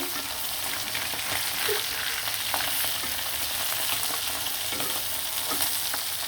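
Hilsa fish pieces frying with radish in a pan, a continuous close sizzle with occasional soft stirring scrapes.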